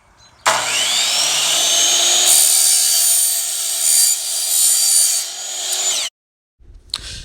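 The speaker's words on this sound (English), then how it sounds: "right now I'm just square cutting everything about 1/8 of an inch longer than I need" A 10-inch mitre saw square-cuts Schluter Rondec trim: a loud, steady whine with a grinding edge runs about five and a half seconds, cuts off sharply, then a brief rattle follows after a short silence.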